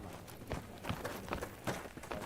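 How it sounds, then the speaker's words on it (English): Footsteps crunch in theHunter: Call of the Wild, a steady run of scuffing steps on rough ground with about one footfall every half second, moderately close over noisy outdoor ambience. "I hear footsteps?"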